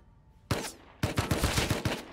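AK rifle gunfire in the game Rust: one loud crack, a brief pause, then a rapid burst of about six close, punchy shots.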